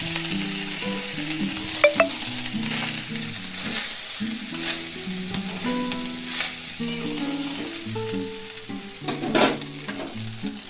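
Rice and vegetables for veg fried rice crackle in a hot pan under a constant sizzle, with scraping stirs now and then. A soft melodic tune plays faintly underneath, and no one speaks.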